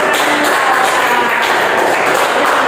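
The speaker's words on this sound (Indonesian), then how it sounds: "Oke, tepuk tangan untuk kakak ini." Applause for a student in a classroom, a dense, steady wash of many hands clapping together, loud and continuous throughout with no talking over it.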